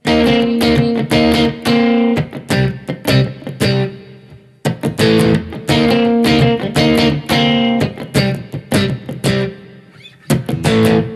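Electric guitar in the middle pickup position of a two-humbucker guitar, with a warm, slightly driven tone playing a lively riff of rapid chords and single notes, with a brief pause midway.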